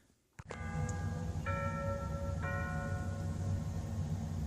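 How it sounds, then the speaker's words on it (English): A clock's battery-powered electronic chime rings three clear, bell-like strokes roughly a second apart, fairly close and loud over a steady low background hum. "this one has an electronic chime"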